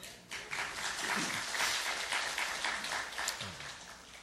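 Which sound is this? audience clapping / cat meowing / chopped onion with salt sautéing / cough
audience clapping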